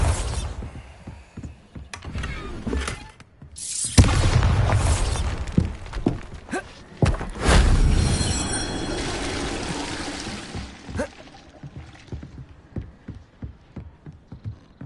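Bombarda blasting spells going off in Hogwarts Legacy, sharp shattering bursts with crumbling debris and trickling rubble after each blast, several hits in sequence that fade to scattered clatter.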